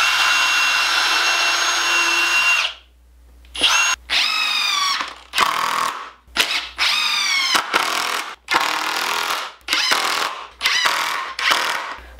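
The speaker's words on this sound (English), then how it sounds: "I also like to pre-drill so that I don't split the wood" A power drill pre-drills holes in wood while building simple DIY wooden car ramps, with a long run followed by a series of short, loud bursts of whirring, separated by brief pauses.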